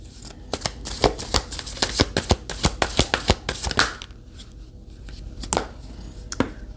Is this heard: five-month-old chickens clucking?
no